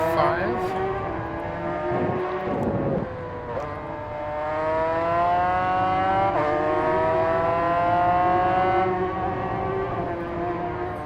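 A motorcycle engine at full throttle in the Ride 5 racing video game whines loudly and continuously, its pitch climbing steadily through the gears with brief dips at shifts.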